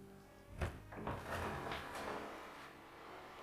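A heavy stone door scrapes and grinds open in a few short rough bursts, followed by a lingering low rumble, heard close with no talk.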